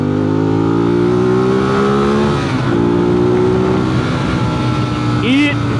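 Ducati Monster 821 motorcycle engine accelerating hard to overtake a vehicle after a downshift, a loud, steady engine drone with rising harmonic pitch, a brief rev change midway, and wind noise throughout.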